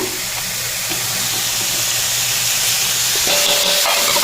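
Chicken goes into a hot pan and sizzles loudly and close, a steady hissing fry that swells slightly toward the end, with no voices.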